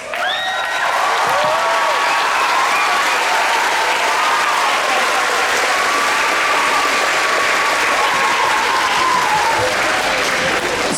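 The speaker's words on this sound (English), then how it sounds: "And our percussion section, give a round of applause." A school band concert audience gives the percussion section sustained, dense applause that stays loud and full for the whole stretch, with a few faint whistles and cheers mixed in.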